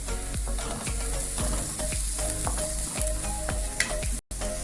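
Curry leaves fry in hot oil in a pan for carrot upma, giving a steady close sizzle with a spoon scraping and stirring in regular strokes throughout.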